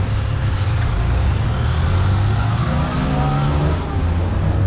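Heavy road traffic rumbles loudly and constantly while a rider on a bike weaves between the cars, with engines droning close by.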